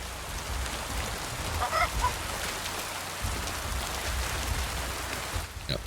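Steady rain falls in Kingdom Come: Deliverance II, a continuous broadband hiss of drops with a few brief tonal calls in the middle and a short sharp sound near the end.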